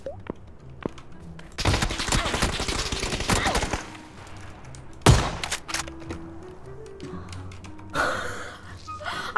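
Bursts of rapid gunfire crackle in a game, with a sharp single shot in the middle and a later burst trailing off, no speech.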